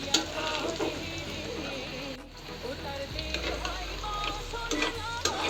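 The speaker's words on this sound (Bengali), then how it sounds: "এটা একটু ভাজা ভাজা হয়ে আসলে সবজিটা দিয়ে দেব" Chopped garlic sizzles steadily in a hot pan while being stirred for a mixed vegetable dish, a continuous close crackle with small scraping stirs.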